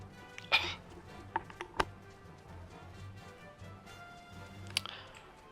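A person coughs into a microphone during a Final Fantasy XIV gaming session, with a sharp burst near the start, a few short clicks and coughs following, and another cough near the end over faint background noise.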